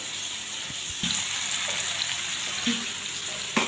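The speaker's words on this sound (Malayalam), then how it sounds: "വഴറ്റി തേങ്ങ അരച്ച് ഒഴിച്ചു കൊടുക്കട്ടെ കേട്ടോ" Ground coconut paste goes into a sizzling curry pan, giving steady loud frying and hissing with a few soft knocks and clinks of a utensil.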